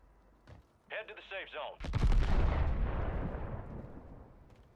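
A mortar strike in Call of Duty Warzone lands with a single loud, booming blast and a long rumbling decay, just after a brief spoken voice.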